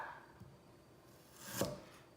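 A kitchen knife slices through peeled ginger on the bias, a faint soft cut with one clearer crunchy stroke near the end, quiet and close with no talking.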